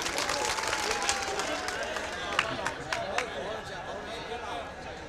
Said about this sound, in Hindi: अच्छा, एक बार ताली बजाएं जो।